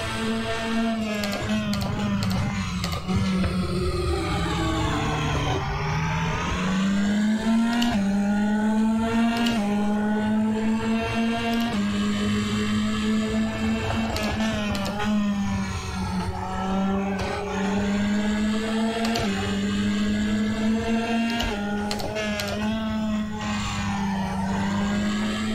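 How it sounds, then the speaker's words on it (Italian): Race car engine in the sim racing game RaceRoom, a continuous loud droning whine rising and falling with revs and gear shifts throughout, tyres skidding as the car slides around. "Macchina se ne va da tutte le parti."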